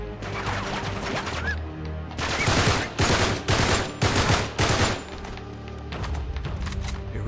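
Gunfire in the Uncharted 3 video game: loud bursts of rapid shots and crashing impacts, heaviest in the middle of the scene, with a faint voice now and then.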